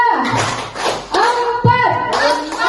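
A group of people clap in unison on command in a classroom or gathering, sharp collective claps in short bursts with pauses between, children's voices faintly present.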